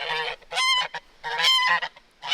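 Geese on a farm honking loudly and close by in a rapid series of harsh, nasal calls that overlap in quick bursts, with no talking.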